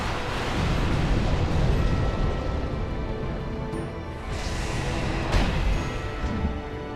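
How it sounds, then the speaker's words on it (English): Triple fireball attack in Dark Souls 2, a dense roaring rush of fiery noise with a couple of sharp bursts layered over a loud continuous rumble. "It's triple fireballs."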